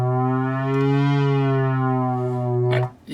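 A steady, buzzy tone from a Korg Poly-800 synthesizer, preset 11, holds for nearly three seconds with a slow, gentle vibrato wavering, then cuts off into a brief noisy click.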